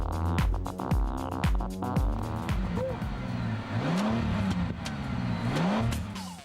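Bentley Continental GT with a 560-horsepower twin-turbo W12 engine, built from two joined VR6 units, revving and accelerating hard, loud and close, with rising and falling engine pitch sweeps and sharp transient bursts throughout.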